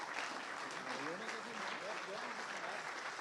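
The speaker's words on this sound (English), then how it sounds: "Thank you for the applause." An audience at a Drupal conference session applauds continuously, a thick, even patter of many hands clapping close by with no pause.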